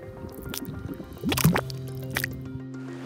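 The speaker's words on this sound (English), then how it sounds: "Mud boils at 80 degrees Celsius." Boiling mud bubbles in a natural hot mud pool, heated to about 80 °C. Wet plops, squelches and gurgles pop up irregularly, with a few louder bursts in the middle, over a steady low bubbling.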